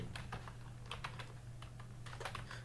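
Typing on a computer keyboard while writing PHP code, a steady run of light clicking keystrokes over a constant low hum, with no talk.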